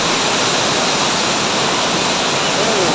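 Continuous loud roar of the Lourdes Falls waterfall in Nara, Bayawan City, a broad steady rush of falling water heard close up with no breaks.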